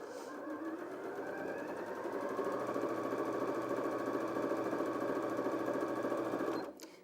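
Janome M100QDC sewing machine stitching in place, a steady close mechanical whir with a rapid needle pulse that runs for several seconds and then stops abruptly.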